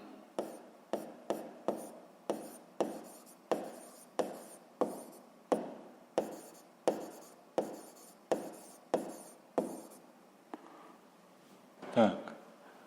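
A pen writing on paper in short, rhythmic bursts of scratching strokes, about twenty close taps and scribbles, ending with a louder rustle; a voice is heard lightly.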